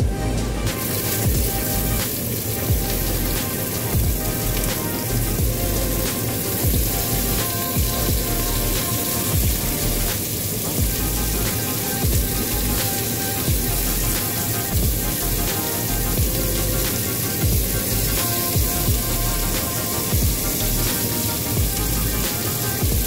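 Onions frying in a pan for a Bengali-style salmon curry, giving a loud, steady, dense sizzle that runs on without break, with no talking over it.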